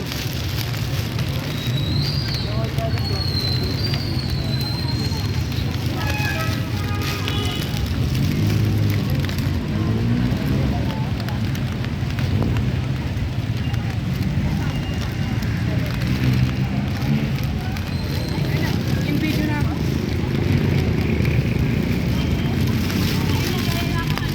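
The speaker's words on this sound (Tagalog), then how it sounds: "Ayan, lumalakas na ang ulan guys." Heavy rain roars steadily, a dense continuous wash close by, with muffled voices occasionally underneath.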